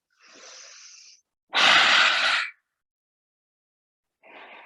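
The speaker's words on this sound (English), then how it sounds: "Out through open mouth with your tongue poking out, your eyes open wide." Yoga breathing: forceful exhalations through a wide-open mouth with the tongue out, heard as a soft breath, then a loud, harsh rushing exhale, then the start of another, close up with silence between.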